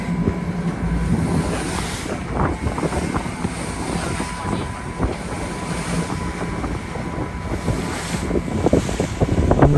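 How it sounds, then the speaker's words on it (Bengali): Strong wind at sea off Cape Town roars across a rocking boat, with continuous microphone buffeting over the wash of choppy water that swells louder near the end. "প্রচন্ড বাতাস"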